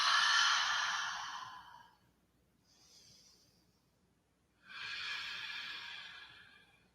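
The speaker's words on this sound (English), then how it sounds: "just take 3 long breaths here with me" Long, slow breaths during a yoga flow: a strong breathy exhale, a faint short breath after a pause, then another long airy breath, all close to the microphone with no talking.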